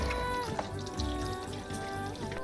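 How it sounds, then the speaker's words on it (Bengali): Mutton pieces being washed with water in a kitchen: splashing, pouring and trickling water with clinks of pieces against a vessel, close and uneven, and a faint voice in the background. "মটন আছে তো চলো এগুলো ধুয়ে নি"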